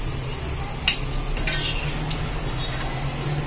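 Onion pakoda fries in hot oil on a low flame, giving a soft, steady sizzle with a few clinks and stirring scrapes from a utensil against the pan.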